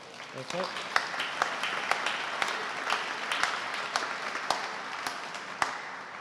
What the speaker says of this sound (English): So I think everybody who helped today is due a round of applause